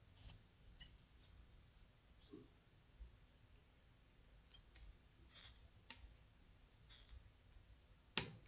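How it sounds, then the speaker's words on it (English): Pliers cut craft wire while a small aquamarine pendant is being wire-wrapped. Soft, scattered clicks and handling taps sound close and quiet, ending in one sharp snip. "Just cut it off right there and end it in there"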